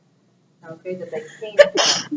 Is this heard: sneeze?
yes